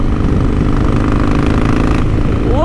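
A Harley-Davidson Sportster motorcycle engine runs steadily and loudly up close, a continuous low rumbling drone throughout with a brief rising whine near the end.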